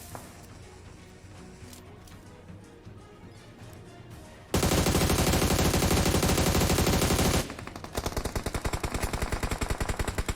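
Automatic gunfire from a BGMI gunfight: dense, loud bursts of rapid shots, with a sustained volley in the middle followed by fast repeated firing, over lighter game ambience at the start.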